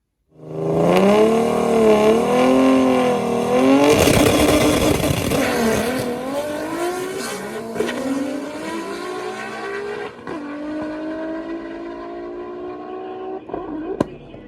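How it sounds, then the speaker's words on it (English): A Toyota Supra at a racing event accelerates hard through the gears, engine revving high and loud with whining drivetrain, then a sharp pop on the shift into fourth before the engine note drops and fades. "as soon as I go into fourth gear, there's a pop"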